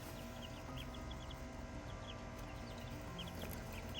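Young chicks peep in a backyard, with small high chirps scattered over a dense, steady background hum and low rumble.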